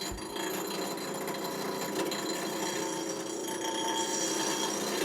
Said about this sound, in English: So I take it to my grinder.